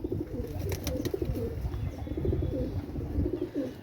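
A pair of Teddy pigeons, Pakistani birds, coo in low, rolling bursts that repeat across the few seconds, near and moderately loud, with faint clicks above and no speech.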